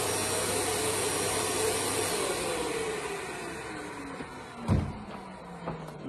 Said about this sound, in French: Donc tu vois, tu as un aspirateur.